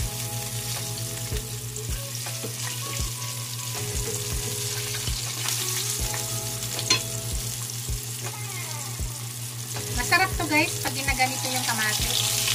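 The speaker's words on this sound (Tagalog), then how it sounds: "Piniprito ko po yan." Fish sizzles and crackles steadily in hot oil in a home kitchen pan, a continuous close frying hiss with occasional clinks, while a person speaks briefly in the background.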